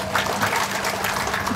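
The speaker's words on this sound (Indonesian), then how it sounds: "Tepuk tangan buat panitia." Applause for the organizing committee at a halal bihalal gathering comes as a dense, even patter of clapping from a crowd, steady and moderately loud for a short stretch.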